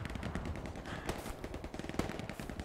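Rapid gunfire from the Hell Let Loose war game rattles in dense, continuous bursts of sharp cracks, with machine-gun rhythm and a few louder shots standing out, and no voice over it.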